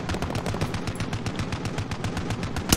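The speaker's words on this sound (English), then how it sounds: "there's already shooting here, dude" Rapid video game gunfire, a dense burst of automatic shots rattling in fast succession, loud and close, running through the whole stretch with no talk over it.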